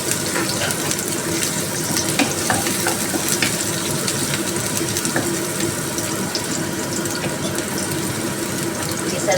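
Onion and garlic sauté in a pan with a loud, dense, continuous sizzle and crackle, plus occasional stirring scrapes, with no talk.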